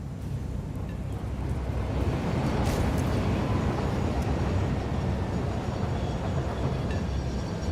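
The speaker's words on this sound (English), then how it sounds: "Put you on a train so that you can like ride around a little bit." A train ride in the video game Trainworld, set in a desert dune biome, gives a continuous, steady rumble of rolling wheels and rushing air, loud and unbroken throughout, with no talking.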